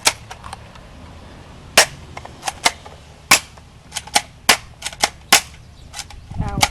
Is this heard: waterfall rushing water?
no